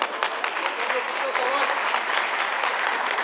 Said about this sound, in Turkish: Alkışlıyoruz, bir kez daha alkışlıyoruz.